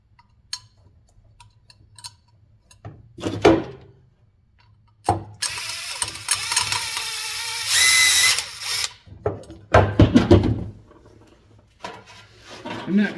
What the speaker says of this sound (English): good idea to drill out these things a little more